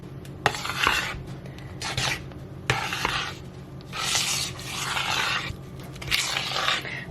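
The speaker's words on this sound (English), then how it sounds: "Keep stirring until there's no more white, dry flour mixture that you can see." A spoon stirs banana muffin batter in a bowl, a series of irregular scraping and rubbing strokes with soft clicks against the bowl, close and fairly quiet.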